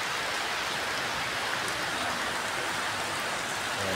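Heavy rain pounds down beside a roadside fruit stall selling mangoes, a loud, dense, unbroken roar of falling water close by, with no voices over it.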